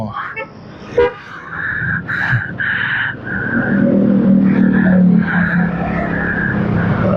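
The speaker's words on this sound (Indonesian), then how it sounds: "Wah bener ini macet teman-teman nih" A roadside traffic jam near Kadungora, Garut, with loud car horns tooting in several sustained blasts of varied length over rumbling engines. Voices are faintly audible underneath.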